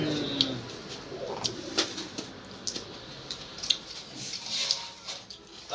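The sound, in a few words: pigeons cooing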